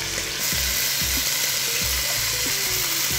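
Short ribs sear in hot oil with a loud, continuous close sizzle, crackling steadily throughout with occasional pops and no talking.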